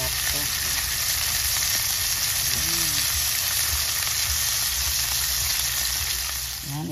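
Fried rice frying in a pan gives a steady, loud, dense sizzle that continues unbroken throughout, with a faint voice briefly underneath.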